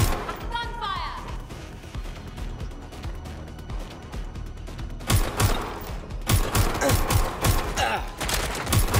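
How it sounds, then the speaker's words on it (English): Gunfire in the Watch Dogs: Legion video game, rapid clattering bursts of shots with mechanical clicks over steady game ambience, a voice speaking partway through. "Gunfire!"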